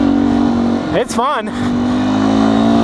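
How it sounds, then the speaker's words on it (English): A 2019 Beta 125 RR S two-stroke dirt bike engine revs up in rising, warbling bursts mid-clip over a steady idle drone, close and loud, with someone speaking briefly. "It does get going though, once you get it revved."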